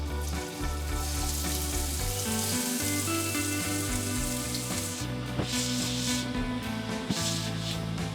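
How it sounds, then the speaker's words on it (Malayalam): Shallots and garlic sauté in a pan for chicken Florentine crepes, a dense steady sizzle overlaid with rubbing, scraping stir strokes and an occasional knock near the end. "നേരത്തെ എടുത്ത് മാറ്റി വച്ചിരിക്കുന്ന ഷാലറ്റ്സും ഗാർലിക്കും കൂടെ ഇട്ട് വഴറ്റിയെടുക്കാം"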